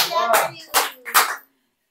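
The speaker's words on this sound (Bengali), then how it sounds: "তালিয়া" Three short bursts of hand clapping ring out close and loud during a family paper-cup building challenge, then stop abruptly into silence.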